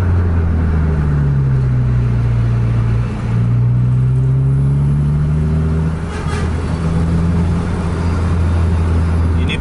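A truck engine drones loud and constant on a busy highway, its low hum shifting pitch slightly as it gears through traffic, heard from inside the cab, no talk.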